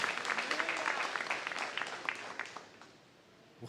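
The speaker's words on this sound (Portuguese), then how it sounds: "se você sentiu o desejo de aplaudir o Senhor" A church congregation applauds the Lord during a Sunday worship service, a dense burst of clapping from many people that swells and then thins out, trailing off toward the end.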